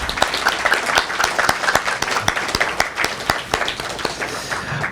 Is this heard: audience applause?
yes